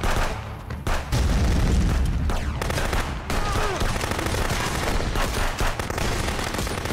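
Pistol gunfire in the shooter game XDefiant, a dense run of sharp shots and bursts filling the whole stretch loudly, with brief gaps between volleys.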